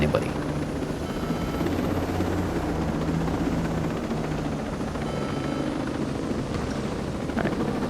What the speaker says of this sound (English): we have a very stealthy helicopter